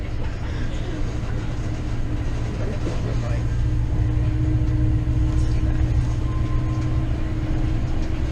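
Six-wheel-drive Columbia Glacier tour vehicle rolling on big Terra tyres with transmission lock engaged, a steady heavy low rumble and drone heard from inside, with a faint hum rising midway.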